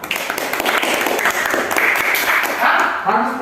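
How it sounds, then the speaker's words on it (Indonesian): A classroom of students claps for a classmate, a short burst of brisk applause mixed with chatter and voices throughout. "Tepuk tangan dulu si Deborah."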